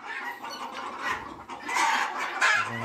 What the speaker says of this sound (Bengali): এটা হচ্ছে ছোট ছোট মুরগির বাচ্চা, আর ওই সাইডে হচ্ছে বড় মুরগি।